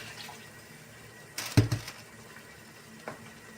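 Tap water splashes briefly into a cooking pot while a smoked pork tenderloin and mushroom broth sauce is being prepared, a short gushing burst in a quiet kitchen.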